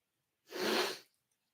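A single sharp sneeze bursts out close by against an otherwise silent background while an Adelaide Crows versus Brisbane Lions AFL match is being watched.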